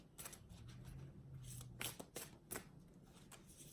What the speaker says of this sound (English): These cards are indeed hard to shuffle though.